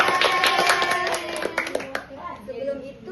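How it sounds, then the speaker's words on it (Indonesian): Children in a classroom clap together for a classmate, a quick burst of close hand claps mixed with kids' voices that thins into lighter scattered taps. "Tepuk tangan untuk Amira"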